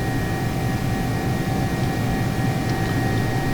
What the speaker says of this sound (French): Je peux donner une assiette positive à 10 degrés pour faire décoller correctement l'avion